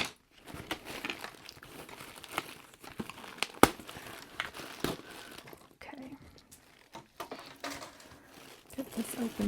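Crinkling plastic packaging as a Wandering Moon woven zipper bag from TJ Maxx is opened by hand, a steady close rustle with sharper crackles and a tearing snap, under intermittent speech.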